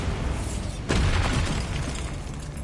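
A Bombarda explosion spell in Hogwarts Legacy goes off as a sudden loud blast with crackling, shattering debris, then rumbles and fades over a couple of seconds.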